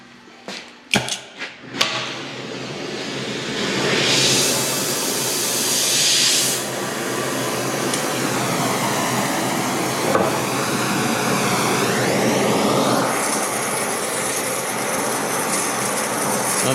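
Torch heating the top of a transfer case gear in a workshop: a steady roaring hiss of flame after a few sharp clanks, continuous and close.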